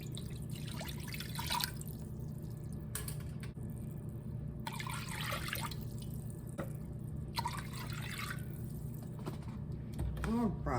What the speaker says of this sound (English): I am going to add 3 cups of beef broth.